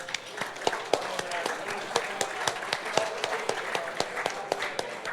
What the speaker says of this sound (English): Let's have a round of applause for all of our golf winners.